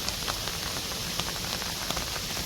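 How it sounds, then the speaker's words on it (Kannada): Heavy monsoon rain falls steadily on surfaces in a coastal Karnataka home and garden, a dense, even hiss with scattered close drops pattering throughout. "ನಮ್ಮ ಊರಲ್ಲಿ ಸಿಕ್ಕಾಪಟ್ಟೆ ಮಳೆ ನೋಡಿ"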